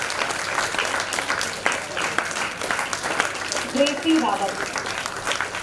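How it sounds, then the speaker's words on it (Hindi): A crowd claps steadily to welcome children coming up for certificates, the clapping continuous across the stretch while a woman reads out a name over it. "कृपया जोरदार तालियों से इनका स्वागत कीजिए।"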